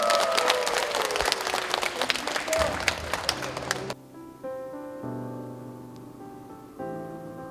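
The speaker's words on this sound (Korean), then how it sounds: "여러분들 큰 박수 부탁드립니다." Audience applause at a lunchtime concert before a popera group sings, a loud dense burst of clapping for about four seconds that then stops abruptly as sustained instrumental music begins.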